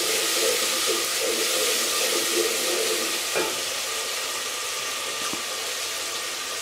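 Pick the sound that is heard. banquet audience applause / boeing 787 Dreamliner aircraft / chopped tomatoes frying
chopped tomatoes frying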